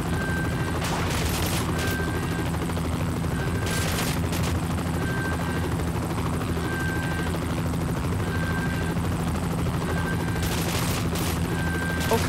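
Sustained automatic fire from a Russian Tommy gun in the video game Cryostasis, long bursts of rapid shots close and loud over a constant droning background, no talking.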